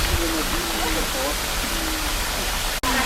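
River water flows through Cambodian jungle, a steady, loud rushing wash that fills the whole clip with no break.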